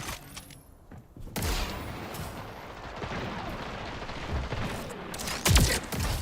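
In Splitgate 2, a gun winds up briefly and then fires, giving loud, close blasts and a dense roar of gameplay with a sharp burst near the end.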